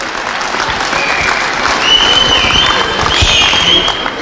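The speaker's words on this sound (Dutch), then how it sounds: "Applaus!" A crowd at a charity walking event for water gives warm, continuous applause, a dense wash of many hands clapping that swells slightly midway and holds steady throughout, with a few raised voices mixed in.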